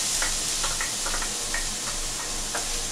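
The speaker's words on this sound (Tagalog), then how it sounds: "So ready na tayo mag-gisa. Lagay natin ang ating onions." Onions sautéing in annatto-colored oil for sotanghon guisado, a dense continuous sizzle with light ticking stirs and crackles throughout, close and steady, no voices.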